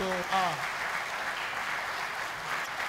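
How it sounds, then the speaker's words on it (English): Audience clapping at the Nigeria Diaspora Investment Summit 2018 fills the space in a steady patter, with a voice briefly heard at the start over the applause. "Please, the applause is important."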